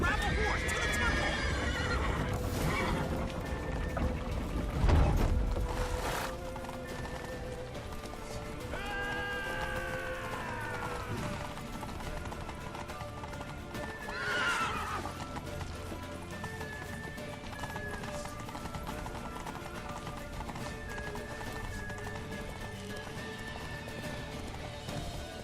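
Horse neighing and galloping hooves in The Witcher 3, with loud whinnies standing out over clip-clopping, sheep-like bleats and other game sounds, while voices speak at points.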